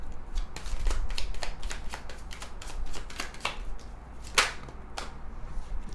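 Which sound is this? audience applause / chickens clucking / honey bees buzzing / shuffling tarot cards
shuffling tarot cards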